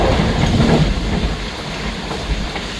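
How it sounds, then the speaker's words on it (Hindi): Passenger train on the Musapak Express line passing a railway station, a loud steady rumble with rhythmic clickety-clack of wheels over rail joints, heard from on board with no talking. "5:39 पर कसोवाल रेलवे स्टेशन पास हुई ट्रेन"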